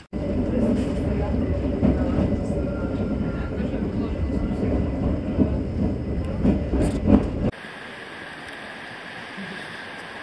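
An electric Tatra tram rumbles loudly and steadily on its rails in the High Tatras near the Popradské pleso stop, with a voice talking over it, then cuts off abruptly into quieter open-air hiss.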